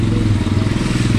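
Motorbike engine on a waterlogged road in flooded Sitamarhi, a steady close droning rumble with clattering and splashing texture throughout, loud and continuous.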